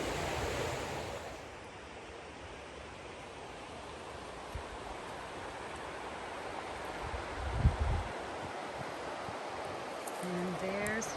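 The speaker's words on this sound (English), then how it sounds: "And there's Hurricane Creek. It's massive." Large Hurricane Creek in the Ozark Highlands rushes in a steady broadband roar, moderately distant and continuous, with someone briefly speaking and some wind buffeting.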